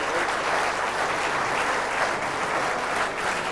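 Applause for a good shot at an Australia versus South Africa triples lawn bowls match in 2003, steady dense clapping that holds at an even level throughout.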